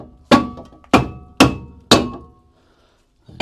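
Rubber mallet striking parts of a 453 EQ during a repair, four solid, evenly spaced thuds with short ringing tails, close and loud, then a pause before a fifth blow begins.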